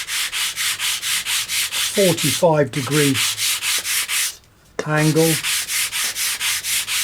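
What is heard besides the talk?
sanding bar sanding model aircraft tailplane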